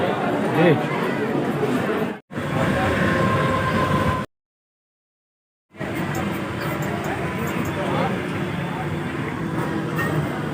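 Rumbling of a Mumbai local train in motion with a crowd chattering, broken by a brief cut and a stretch of silence, then the steady rail noise resumes.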